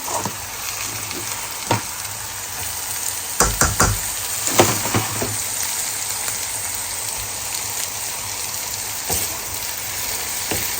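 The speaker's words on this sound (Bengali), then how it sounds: "আলু ভাজি আসলে আমি দুইভাবে করি দুইভাবেই অনেক বেশি মজা লাগে আজকে এইভাবেই ভাজি করতেছি" Potatoes for aloo bhaji fry in a pan with a steady, close sizzle, broken by a few sharp knocks and scrapes of stirring; no one speaks.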